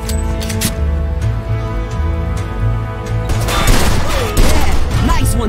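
Gunfire in Mafia 2, a loud burst of rapid shots and impacts over a droning game backdrop, clustered in the second half with sharp cracks close by.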